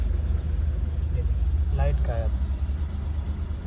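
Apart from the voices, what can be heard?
Mahindra Bolero BS6 engine started and idling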